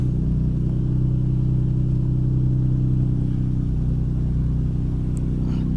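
A Nissan Skyline R34 sports car engine idles and rumbles loudly and steadily up close, a deep continuous drone with no talking over it.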